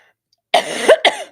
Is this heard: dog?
no